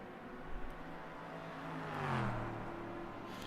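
A simulated LMP3 race car engine in the rFactor 2 racing game drones at a steady pitch, then rises as it revs and swells briefly louder before settling back.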